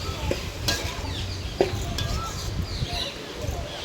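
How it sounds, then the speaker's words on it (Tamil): Onions and sundal sauté in a pan, a soft continuous sizzle with spatula scrapes and stirring clinks, plus one brief sharper knock. "இது சுண்டல் எடுத்து போட்டுட்டு அதையும் வதக்கணும்."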